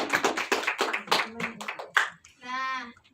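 Brief applause in a classroom follows a teacher's spoken request, with a short burst of hand clapping closing out talking.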